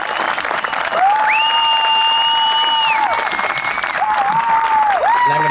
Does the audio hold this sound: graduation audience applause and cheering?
yes